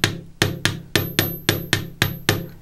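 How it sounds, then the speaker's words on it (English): Chasing hammer striking jewelry wire on a hard surface, about nine crisp, evenly spaced metallic taps with short ringing tails, close up and alone. "Or you can come in with a chasing hammer. This will flatten it a little bit."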